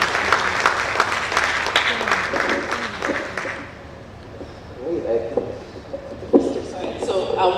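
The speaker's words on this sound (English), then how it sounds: "Please, a round of applause for the panelists." Audience at an internet freedom forum applauding panelists, a dense burst of clapping for about three and a half seconds that fades out, followed by quieter room noise and a few light knocks.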